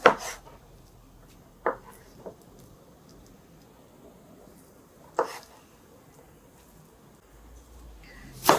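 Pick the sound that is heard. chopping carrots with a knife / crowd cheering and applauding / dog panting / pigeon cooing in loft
chopping carrots with a knife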